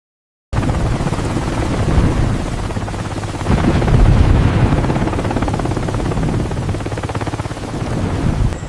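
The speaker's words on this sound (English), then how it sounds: "A helicopter glides across a golden horizon." A helicopter's rotor thrums steadily close by, a continuous chopping drone with wind noise, swelling slightly partway through.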